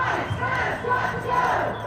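A crowd of thousands of protesters chants and shouts together on the steps of a state capitol. The massed voices form a dense, continuous roar that holds steady throughout.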